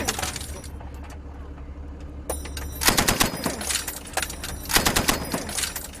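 A machine gun fires in bursts during military practice in Afghanistan, two sharp rattling volleys that stand out over a low rumbling background.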